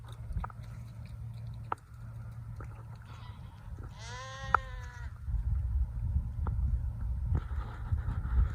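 Sheep in a big field on Fair Isle in spring, with one clear wavering bleat midway over steady outdoor ambience, faint chewing and soft knocks close by, and no voices.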